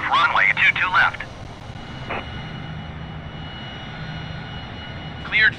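Aircraft engine roar builds steadily during takeoff in Microsoft Flight Simulator 2020, a continuous mid-level drone with radio-style voices at the start and end.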